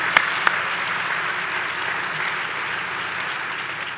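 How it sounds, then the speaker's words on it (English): Applause from an audience at a hospital dedication ceremony for a behavioral health pavilion, steady and fairly full clapping that carries on throughout, with two sharper claps standing out near the start. "Another round of applause for Megan, please."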